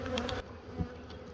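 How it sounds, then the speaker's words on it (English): Honeybees buzz faintly inside a nuc box, a short, quiet, agitated hum with a few closer wingbeats. "there's still quite a few bees in there that are not happy with me"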